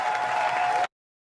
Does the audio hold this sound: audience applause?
yes